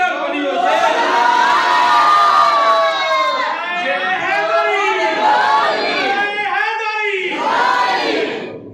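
A large crowd shouts in unison at a religious gathering in Pakistan, voices rising together in loud, sustained chanting that swells and dips across several seconds.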